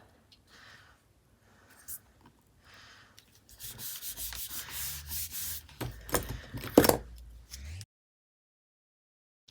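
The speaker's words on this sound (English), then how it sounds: "I've got a sanding block and I'm using this to just take off any major overhang" A sanding block rubs back and forth across paper edges in uneven, scratchy strokes, starting faint and growing louder, close up, before stopping.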